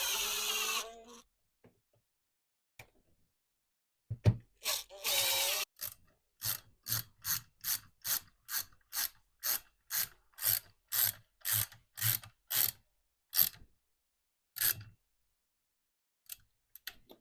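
Hand ratchet snugging bolts on a seized Echo string trimmer, a quiet close series of about a dozen evenly spaced clicking strokes after a few scattered knocks, with no talking.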